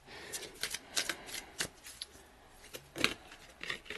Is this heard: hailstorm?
no